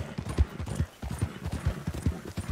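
A mare's hooves clip-clop at a steady trotting rhythm in Red Dead Redemption 2, close and clear, with repeated hoof strikes over roughly two and a half seconds and no voices.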